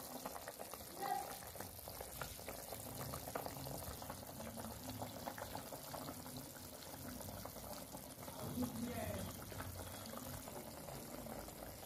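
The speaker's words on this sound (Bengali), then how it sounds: "ফুটছে দেখুন টক করে" Kalta fish curry boils in a pot, a soft, continuous bubbling and sizzling simmer heard close but faint, steady throughout with no talk.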